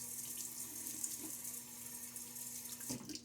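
A tap runs steadily into a sink while a man shaves with a Gillette Nacet blade, Williams soap in a mug and a Semogue brush, a constant close hiss of flowing water with light splashes near the end.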